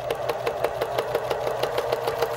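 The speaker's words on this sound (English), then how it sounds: "I'm going to straight stitch all around the marked seam line" A sewing machine runs a short straight stitch through organdy and stabilizer, its needle tapping in a fast, even rhythm under a steady motor whir, close and continuous.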